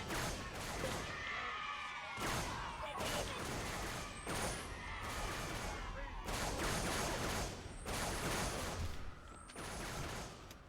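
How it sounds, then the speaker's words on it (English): Video game firefight with dense, continuous gunfire and broadband bursts packed close together, punctuated by sharp cracks and whistling high tones, loud and nearby throughout, with voices talking underneath. "We're taking fire. Enemy has engaged."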